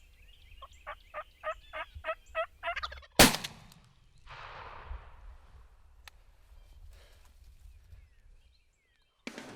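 A wild turkey tom gobbles in a rapid rattling burst during a hunt over decoys. A sharp, loud gunshot follows and rings off into the open air. Faint outdoor noise continues after.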